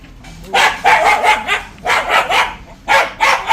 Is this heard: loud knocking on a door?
no